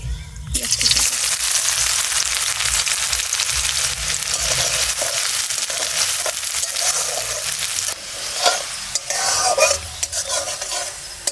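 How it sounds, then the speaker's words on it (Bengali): Chopped onions fry with cinnamon, cardamom and dry chilli in hot oil in a pan, giving a loud continuous sizzle that is broken by scraping stirs and a few clinks of the utensil against the pan. "পেঁয়াজটা লাল লাল করে ভাজা হয়ে গেছে"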